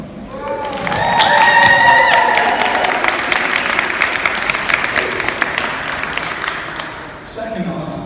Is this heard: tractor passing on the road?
no